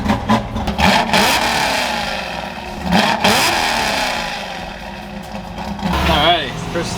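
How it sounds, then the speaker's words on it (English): A Ford F100 truck with a NASCAR-inspired build on a mountain drive, its engine revving up and down in swells while the vehicle moves, with a person talking over it at times. "we're taking the F100 out on a little drive, gonna stretch its legs a little bit, put some miles on it, get it up in the RPM"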